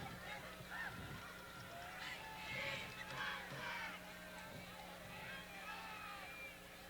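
Crowd noise from the stands at a high school football game between East Brunswick and Perth Amboy, a steady distant roar with scattered shouts and horn-like honks, under a play-by-play announcer.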